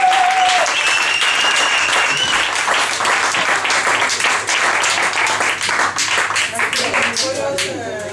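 A live audience applauds loudly and steadily, dense clapping filling the room from start to finish while voices and a few whoops rise over it.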